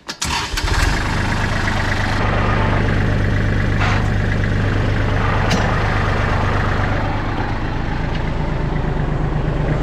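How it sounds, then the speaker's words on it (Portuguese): A farm tractor engine cranks and catches, then settles into a loud, steady diesel idle with a throbbing low rumble, close to the microphone, used to run an olive-tree spraying rig. "Para isso, temos que ligar o trator."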